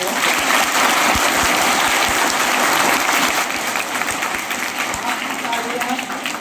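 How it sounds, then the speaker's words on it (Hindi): An audience at a school seminar gives dense, sustained applause that fills the room and then tapers off slightly, with some voices mixed in. "आपकी तालियां होनी चाहिए"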